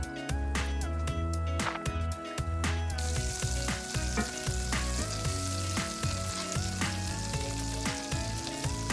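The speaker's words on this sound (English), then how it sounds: "To that we're going to add 2 tablespoons of butter." Butter melting in a cast iron pan on a brick-built stove, a steady close sizzle and crackle with a few clattering pan knocks early on, no talking.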